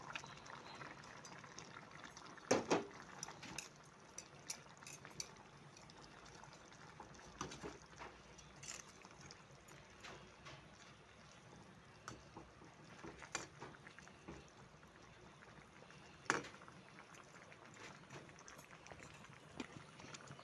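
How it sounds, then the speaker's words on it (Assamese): Tomato and okra curry simmering in a pot over a village kitchen fire: faint, steady bubbling with scattered soft pops and splutters, quiet and close. "বিলাহীখিনি দি আমি 2 মিনিটমান আকৌ উতলিবলৈ দিম।"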